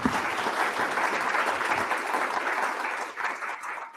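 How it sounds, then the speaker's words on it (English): An audience applauds a book panel at a lunchtime history talk, dense sustained clapping that fills the room and fades slightly toward the end. "let's give our incredible panel a round of applause again"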